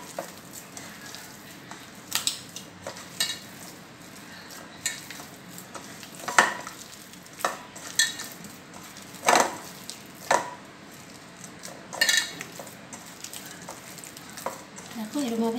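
Wood apple pulp being mashed and squeezed by hand, with wet squelching presses that come in irregular bursts over steady background noise.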